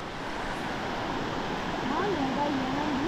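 Fast-flowing river at a campsite in Hulu Langat, a steady, close rushing wash of water throughout, with a faint whistle-like tone in the last second.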